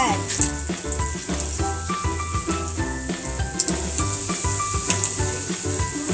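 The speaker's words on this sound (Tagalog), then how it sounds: "Mainit na ang ating mantika, pwede na natin ilagay ang ating ham and cheese roll." Ham and cheese rolls fry in hot oil, giving a continuous crackling sizzle at a moderate, even level throughout, with faint kitchen sounds alongside.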